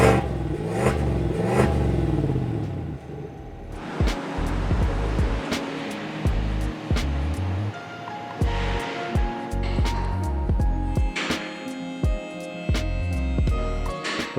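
A stock V8 pickup truck engine idles roughly, then revs in a series of sharp bursts with clattering, popping exhaust, loud and close.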